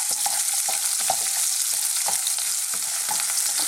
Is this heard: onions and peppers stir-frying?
yes